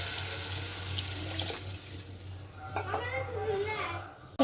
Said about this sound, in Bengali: কষানো শেষ, জলটা দিয়ে দিই।